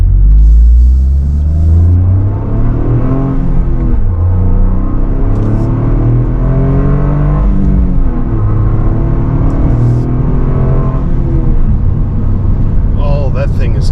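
A 2024 Toyota GR Corolla hot hatch engine rumbles and revs loudly up close while driving and shifting through gears, rising and falling pitch throughout, with a voice talking over it.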